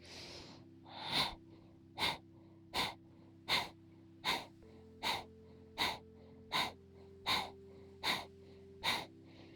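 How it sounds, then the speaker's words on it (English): Kapalabhati yoga breathing: about twelve sharp, forceful nasal exhalations at an even pace of roughly one per second, close and clear over a faint steady background hum. "Deep breath, 10 rounds of Kapalabhati."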